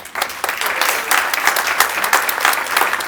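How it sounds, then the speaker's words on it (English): Audience applause at a Framingham senior heroes awards ceremony for a longtime committee member, steady dense clapping from a crowd filling the whole moment, fairly close and even in loudness. "So we gave Brian applause."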